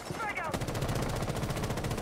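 Sustained rapid automatic gunfire in Rainbow Six, a steady machine-gun-like stream of shots running the whole time, close and loud, with faint game sounds underneath.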